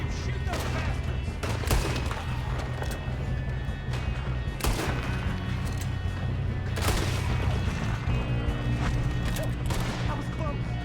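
Gunfire during a train shootout in Red Dead Redemption 2, with repeated loud shots cracking out every second or two over a steady rumbling train, while voices shout in between.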